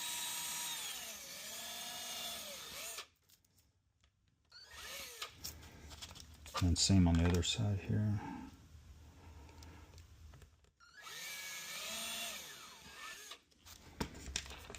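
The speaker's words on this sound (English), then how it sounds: "So we're going to drill with a small hole first." A power drill bores small pilot holes in wood while assembling a pinball kit, with two loud, steady whirring runs of a few seconds each, separated by a stretch of close-up talk.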